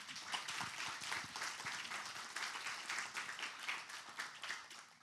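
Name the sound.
audience round of applause for the panel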